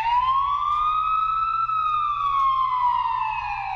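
An ambulance siren wails loud and close, a steady rising and falling tone that sounds alone for several seconds.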